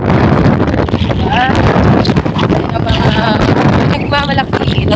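Heavy wind buffeting the microphone during a motorcycle ride toward Kaybiang Tunnel, a loud constant roaring rumble that dominates throughout, with faint engine and road noise mixed underneath.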